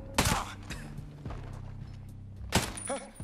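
Gunfire in the video game Ghost Recon Breakpoint, a few sharp bursts with pauses between, the loudest near the start and end, over a low background hum.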